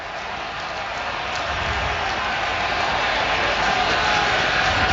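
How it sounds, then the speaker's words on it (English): A large football stadium crowd at Acrisure roars in a steady, dense wash of cheering and noise that swells slightly louder, with no single voice standing out. "And listen to this crowd."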